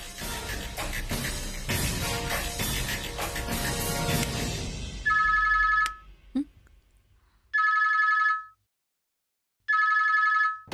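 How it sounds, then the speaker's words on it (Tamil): Phone ringing with an incoming call: an electronic ringtone repeats in three loud bursts after background music fades out, with one brief soft click between them. "ஸ்ரீஜா போன் பண்றாங்க"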